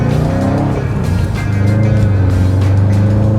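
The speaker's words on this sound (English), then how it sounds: "I'm gonna start the car up to make sure I didn't do a jigsaw job." A Subaru WRX STI engine runs close and loud with a steady, deep harmonic drone that shifts slightly in pitch partway through, with no voices over it.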